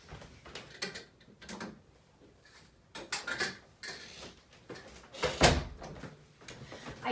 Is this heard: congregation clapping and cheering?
no